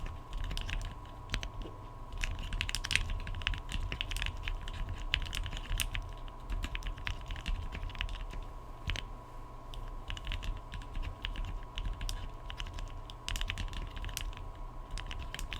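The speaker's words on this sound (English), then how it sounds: "some slow typing and fast typing." Typing on a Bakeneko 60 mechanical keyboard fitted with lubed Hippo switches, a close, continuous clatter of keystrokes that shifts between slower and faster bursts, with no talking.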